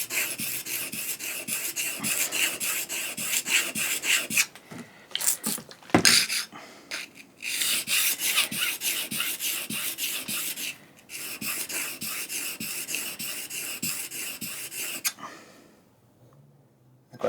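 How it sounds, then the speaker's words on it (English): A steel cabinet scraper from Melbourne Tool Co. is honed on a fine 1200-grit sharpening stone, giving a steady, close rasping scrape in back-and-forth strokes with brief pauses, ending in near silence. "And now onto the fine stone, which is a 1200."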